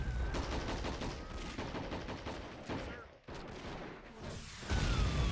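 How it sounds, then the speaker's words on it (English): Dense artillery barrage and rapid gunfire in a WW1 trench-warfare strategy game set at Belleau Wood, continuous loud overlapping blasts and crackling shots with no pause. "They're not afraid to call in artillery to wipe us out."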